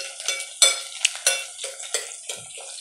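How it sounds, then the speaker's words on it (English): Soft crackling sizzle of onions frying for jollof rice, with several sharp clinks and scrapes of a utensil stirring in a pot, close and fairly quiet. "As you can see, onions are frying"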